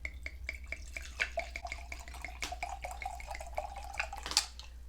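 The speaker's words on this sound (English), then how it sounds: "So we're just gonna go ahead and pour up and just kind of see what we get." Wine poured into a wine glass, a soft continuous trickle with small clinks and drips, close and fairly quiet, with no talking.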